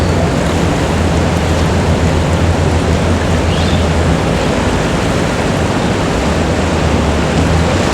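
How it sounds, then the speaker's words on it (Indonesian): Strong current of the Kali Progo river near the Srandakan dam rushing steadily, a dense, loud, unbroken roar of water with no talk over it. "Saat ini arus Kali Progo terlihat masih cukup deras."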